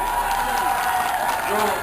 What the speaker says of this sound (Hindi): जोरदार तालियों को स्वागत करें